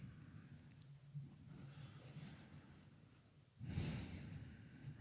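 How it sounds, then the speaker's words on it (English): Slow, deep yoga breaths during a gentle flow session, a soft long inhale and then a louder, fuller exhale near the end, close and alone over faint room noise. "just try and lengthen the breath in and out."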